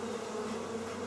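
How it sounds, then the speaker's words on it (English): Honeybees buzzing around an open hive during an inspection, a dense steady drone that fills the air close by with no break, no voices. "Oh, I'm getting a lot of bees in the air here."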